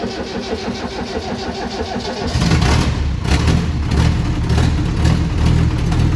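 A Land Rover Series engine is cranked over by its starter and then catches. It settles into a loud, rough, steady running rumble close to the microphone.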